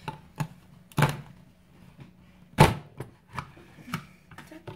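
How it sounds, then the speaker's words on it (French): A Martha Stewart paper punch cuts through paper in a quiet room: a series of sharp clacks and thunks, with two especially loud, close punches among lighter taps. "j'ai choisi donc cette perforatrice là c'est de chez Martha Stewart je crois"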